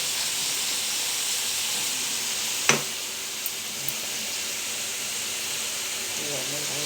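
Amaranth leaves fry in a pan with a soft, steady hiss and sizzle. A single sharp clink sounds partway through, followed by a couple of faint ticks.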